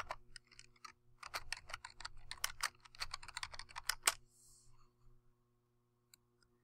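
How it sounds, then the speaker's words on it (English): Quick bursts of keystrokes on a computer keyboard, close and fairly quiet, tapping in an uneven rhythm for about four seconds before a short pause and a couple of final isolated clicks. "press the Enter key once again and type the name of the class"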